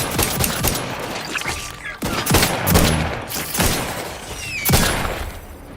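Enemy gunfire erupts in The Outer Worlds 2 game as a dense, chaotic volley of sharp repeated shots and impacts at close range, with brief clusters of bursts.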